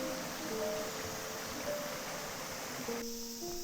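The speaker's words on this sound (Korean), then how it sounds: "걷는 내내 계곡의 시원한 물소리가 귓가를 맴돌았어요." A mountain valley stream in Dobongsan flows with a soft, steady rushing wash, moderately faint and unbroken, with faint birdsong tones over it.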